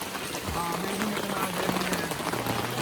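Rain patters steadily on surfaces at a misty mountain campsite at Gunung Silipat in Yala while chicken grills over a fire, a constant close hiss with voices talking underneath.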